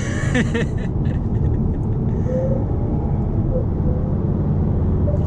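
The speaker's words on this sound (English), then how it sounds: "I can hear the sounds imposer in your car" A low Volkswagen Golf R engine rumble, piped through a sound actuator, fills the car cabin, deep and continuous, with a faint higher hum drifting in and out; no talking.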